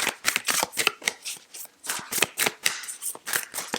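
New tarot cards are shuffled by hand in quick bursts of crisp riffling and slapping, close and clear with short pauses between handfuls and no talking.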